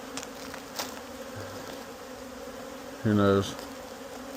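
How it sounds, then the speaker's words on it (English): Honeybees hum and buzz steadily around a hive in a savanna apiary as foragers return, a soft continuous drone with a brief spoken remark nearby. "The bees should start coming home. It could be a lot of bees coming home."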